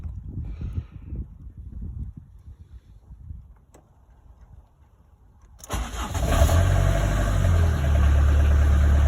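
A Talbot Express 150d diesel engine is cranked and fires up, quiet handling noises giving way to a sudden loud start and a steady, rumbling idle that continues to the end.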